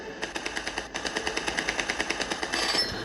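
Aircraft guns in an air combat video game fire a rapid, evenly spaced burst of around twenty sharp shots, loud and close, with a brief pause near the start and no talk over it.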